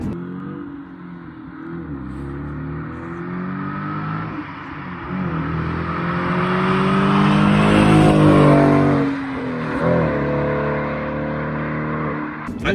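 Audi S5 with stock exhaust holding around 4,000 rpm, a steady loud engine drone that swells and eases slightly while the car drives, with no talking over it.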